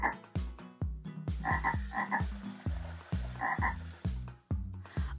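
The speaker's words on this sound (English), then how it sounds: "There are so many frogs here, and they all sound very hungry." A chorus of cartoon frogs croaks loudly for a children's show, with repeated deep, bouncy croaks in a quick, regular rhythm and occasional higher chirps layered over them, close and with no speech.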